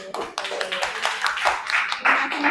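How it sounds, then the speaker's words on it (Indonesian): A classroom audience applauds a presenter named Mas Bagus: a short burst of uneven, close hand claps from a small group, mixed with voices talking over it. "Kita kasih tepuk tangan dulu buat Mas Bagus."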